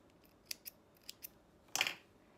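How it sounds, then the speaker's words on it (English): Scissors snip sewing threads at a sewing machine: a few quick, light cuts close by, then one louder, longer crunching snip, with no talking. "bring the threads forward and snip and pull out the back."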